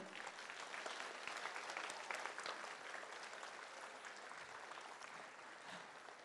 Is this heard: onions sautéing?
no